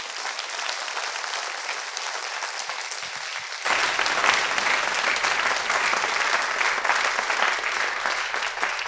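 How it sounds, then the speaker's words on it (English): Applause after a middle school winter concert, steady clapping from the audience that swells louder and fuller partway through and stays strong to the end. "I would like to give all of our students who have been on the stage tonight a big round of applause"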